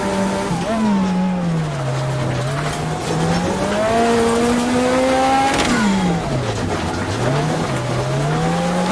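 A Lancia Delta S4 Group B rally car climbs a mountain road, its engine loud and close, revving and rising through gears with a brief drop and surge midway, plus faint tire squeal.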